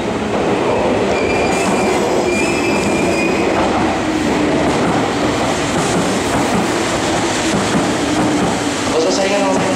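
Meitetsu Nagoya Main Line all-standard-car limited express train at Kanayama Station platform 3, a loud continuous roar of wheels and carriages rumbling past close by, with faint squealing and a station announcement over the top.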